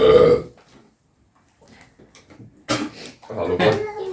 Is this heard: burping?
yes